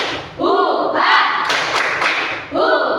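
Schoolchildren in a class clap out the 'tepuk sambal' chant together, dense loud claps and thumps under chanting voices, with a short lull before a final burst.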